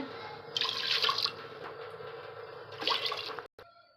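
Water is poured over raw rice in a kitchen while making finger millet porridge, a soft splashing pour in two short bursts separated by a quieter trickle, faint and close.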